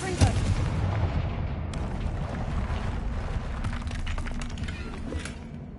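A Confringo fire spell cast in Hogwarts Legacy bursts with a sharp blast at the start, followed by a sustained rumbling roar of game ambience and scattered crackling impacts.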